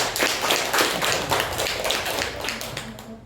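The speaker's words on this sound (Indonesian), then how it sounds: "Tepuk tangan untuk Afifah dan Nafidatul" Classroom applause for two presenting students during a teaching session, a brisk burst of many hands clapping at close range that tapers off toward the end.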